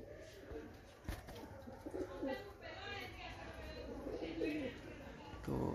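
Pigeons coo softly and peck at scattered grain close by in a pigeon-keeping setting, with a faint flutter of wings and someone talking over them throughout.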